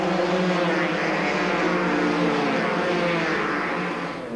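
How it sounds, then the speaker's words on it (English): Rally motorcycles, among them a KTM 360, storm down the runway of a bush airstrip during the Trans Tongaland rally, making a continuous loud engine roar that stays steady throughout with no talk. "Then it was the turn of the bikes to storm down the runway of Mku's airstrip."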